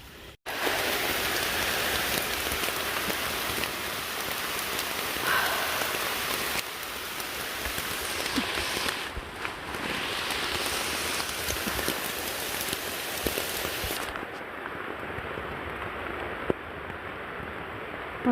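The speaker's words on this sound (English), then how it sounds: "it's raining too hard right now." Heavy rain drums steadily on a hiking tent at night along the Virginia Appalachian Trail, a dense, close, continuous patter that holds strong throughout, with a few louder drips, and no one speaking.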